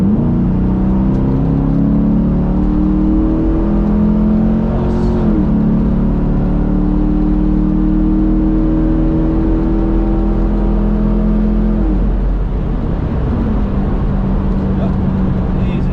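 V8 Chevrolet Camaro muscle car accelerating hard on the Hampton Downs race track, a loud, continuous engine roar rising in pitch through the gears with brief shift dips, heard close from inside the car.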